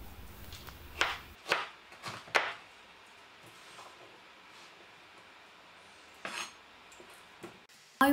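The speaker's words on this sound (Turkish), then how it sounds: "Ben küp doğramayı tercih ettim." Raw quince being cut into cubes with a knife on a board gives a few sharp, separate chopping knocks, then a long quiet gap and a couple more cuts near the end, close and moderately loud.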